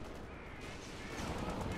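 Gunfire in a Company of Heroes 2 battle: dense, rapid bursts of shots and artillery against a disabled tank, loud and continuous, with a voice talking faintly underneath.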